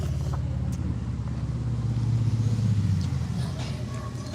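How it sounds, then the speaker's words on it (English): A big motorcycle trike passes by on the road, its engine a steady low rumble that swells toward the middle and fades again, heard continuously with no talk over it. "I hear another motorcycle."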